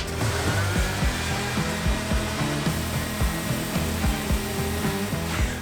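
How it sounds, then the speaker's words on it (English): An oscillating sander buzzing against a concrete countertop form, a loud continuous motor whine with rhythmic pulsing rattles as it vibrates the form, close up with no speech. "So you can do this with an oscillating sander."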